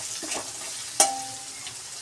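Garlic fries in oil with cumin and dried chillies, giving a steady soft sizzle with a sharp crackle or pop at about one second and another at the very end, heard alone with no talk.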